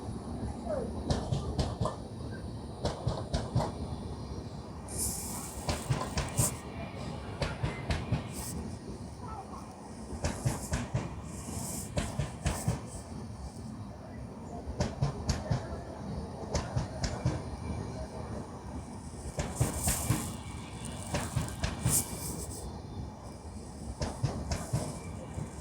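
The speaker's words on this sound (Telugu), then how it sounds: "ఈ ట్రైన్ షోర్నూర్కి వెళ్తుంది" A Chennai to Kollam Sabarimala special train running along the track, a steady rumble with repeated rhythmic clickety-clack bursts from the wheels and occasional squeals, heard from on board with faint voices in the background.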